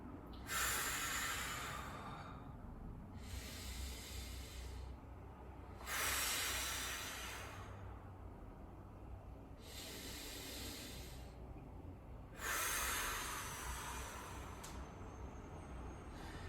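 A person takes deep breaths while holding a side-plank yoga pose. Three slow, loud, airy inhale–exhale cycles come close to the microphone, spaced evenly several seconds apart.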